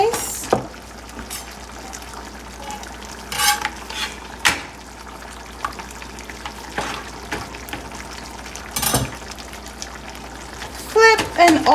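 Oiled Guyanese roti cooking in a pan, with a soft, continuous fry under intermittent scraping, stirring and clattering of utensils, close and fairly loud.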